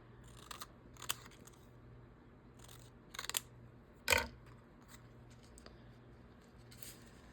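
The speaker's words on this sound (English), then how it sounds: "I wonder if I can cut this into 3s" Scissors make a few quiet, scattered snips through paper or craft material, close by, with one louder crisp cut partway through and no talk.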